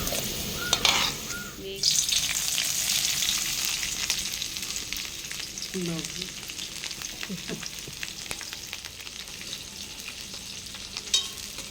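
Ivy gourd (dondakaya) pieces fry in hot oil with a continuous close sizzle, broken by a few clinks of a spatula and brief knocks against the pan.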